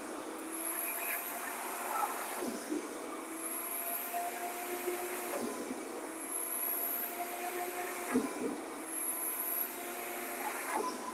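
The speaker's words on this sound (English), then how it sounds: "So the first thing that I would do is simply vacuum with a HEPA vac" A HEPA vacuum runs over a moldy surface during mold remediation, a steady airy roar with faint rhythmic surges as the head is pushed back and forth.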